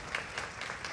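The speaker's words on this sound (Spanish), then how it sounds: "Si lo va a aplaudir," A church congregation applauding during a sermon, a broad steady wash of clapping with a few brighter swells, moderately loud and without voices.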